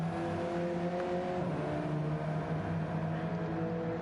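A race car engine in a racing video game at Daytona Road Course holds a steady, droning high rev, continuous and moderately loud, with faint commentary underneath.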